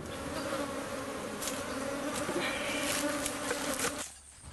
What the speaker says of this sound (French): After the hive is open, immediately the bees try to defend themselves from the intruder.